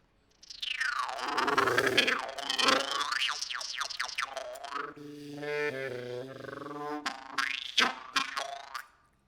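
Springy, twanging metallic tones from a two-spring experimental instrument called the Daisy Cutter swoop and warble, with boinging glides and a buzzing, ratcheting stretch in the middle, played alone at moderate volume.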